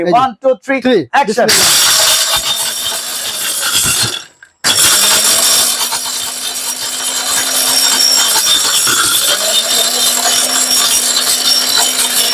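A powerful mixer grinder runs loud and steady while grinding turmeric, a dense whirring roar that cuts out briefly and starts again, with a voice speaking at the start.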